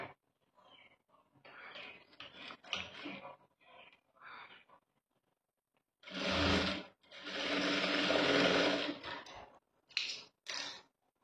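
A sewing machine stitches a blouse in several bursts, first short irregular runs, then two longer loud continuous whirs, followed by brief final spurts, close by with no talking.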